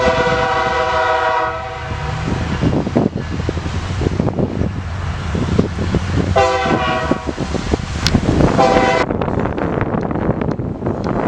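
A Norfolk Southern local freight train pulls out near Atlanta, its loud horn sounding in long blasts over the heavy rumble and squeal of moving rail cars, close and continuous.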